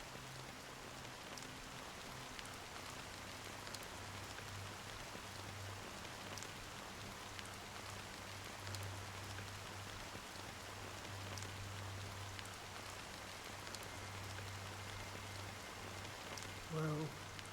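Steady rain falls in the Honkai: Star Rail video game, a soft, continuous patter at low level with a faint hum beneath, alone and unbroken throughout.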